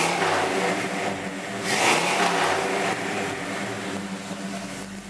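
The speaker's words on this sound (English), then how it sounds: "Give you an idea what the mufflers kind of sound like here." A 1979 Chevrolet Malibu wagon engine revs through its mufflers, a loud, steady exhaust drone that swells briefly near the middle before settling back, with no talking.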